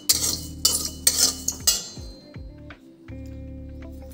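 A metal spoon scrapes and clinks against a kadhai while roasting cumin seeds, in short repeated strokes over a low steady hum, fairly close.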